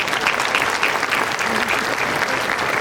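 Sustained applause fills a hall during a school Founders Day speech, a thick, even crowd of clapping hands heard close and continuous, with nobody speaking.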